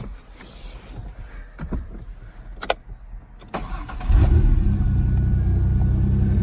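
An old pickup truck engine cranks and catches, then settles into a steady, loud rumbling idle after a few clunks and rattles.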